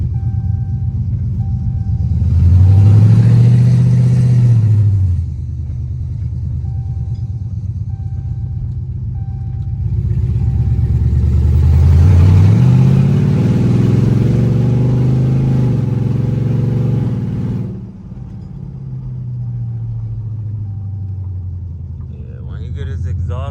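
A Chrysler 300 fitted with a swapped Scat Pack engine pulls hard through its gears, the deep engine note rising and dropping at each shift across two long, loud runs, with voices talking over it.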